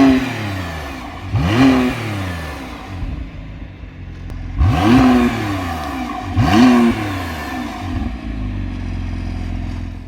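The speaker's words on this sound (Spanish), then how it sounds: "Ya os digo que el sonido de este coche es increíble." McLaren Artura Spider, a 700 hp convertible supercar, revved through its exhaust in three loud, sharp blips that rise and fall quickly over a rumbling idle, close and without talk.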